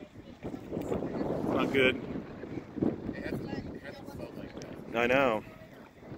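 Wind blows outdoors during a Colorado wildfire, a steady broadband rush and buffet on the microphone running under people talking throughout, with a louder gusty swell near the end.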